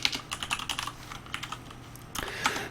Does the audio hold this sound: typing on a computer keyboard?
yes